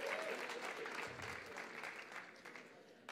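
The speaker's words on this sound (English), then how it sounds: "can we give our worship team another big round of applause?" Applause from a church audience for the worship team at a worship night, a steady broadband patter of many hands that fades slightly over a few seconds with no talk.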